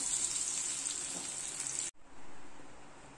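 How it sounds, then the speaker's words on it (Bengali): Taro pieces fry in ghee with a soft, steady hiss and crackle close by, cutting off abruptly to a quieter background partway through; no one speaks. "আমি কচুগুলো একটুখানি লাল লাল করে ভেজে নেব।"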